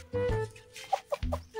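A chicken clucking nearby, a few short, sharp clucks spaced unevenly across a brief moment with quiet in between and no voices.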